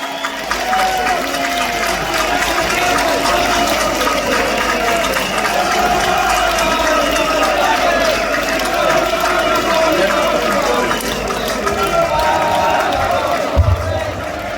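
At an outdoor London demonstration, a large crowd applauds and cheers for Tommy Robinson, a continuous roar of clapping mixed with shouting voices that stays steady and loud throughout.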